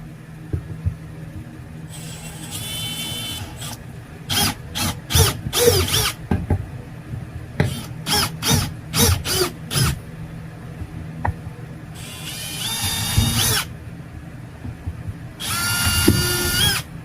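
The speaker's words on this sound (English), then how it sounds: "You don't necessarily need to drill all the way through the bulkhead." A power drill whirs in repeated short bursts, with several longer, louder runs in between, drilling into a wooden bulkhead on a Catalina 250 sailboat, close by and otherwise quiet.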